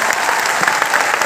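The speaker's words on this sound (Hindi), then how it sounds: "हमारी टीम के लिए एक बार जोरदार ताली बजा दीजिए।" Loud audience applause fills a hall at a coaching class event in Patna, dense steady clapping for the team with no voices over it.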